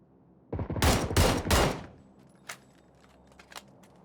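Video game gunfire in PUBG: a rapid burst of three or four loud gunshots close together, followed by a few fainter, distant shots spaced apart.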